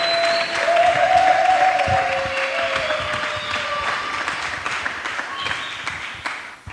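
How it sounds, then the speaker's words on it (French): A church congregation applauding and cheering in praise, sustained clapping with crowd noise and voices mixed in, fairly loud and continuous before thinning toward the end. "nous acclamons très fort le Seigneur"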